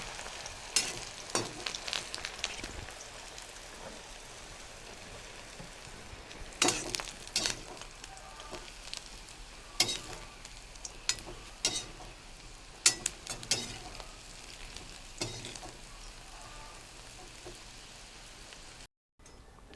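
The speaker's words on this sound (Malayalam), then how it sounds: "ഈ സൂപ്പിക്ക് ഇടാൻ വേണ്ടിയിട്ട് കുറച്ച് ക്രൂട്ടോൺ ഫ്രൈ ചെയ്തെടുക്കുക" Croutons frying in a pan for cream of tomato soup, a steady low sizzle with scattered crackling pops and occasional stirring clatter, no voices.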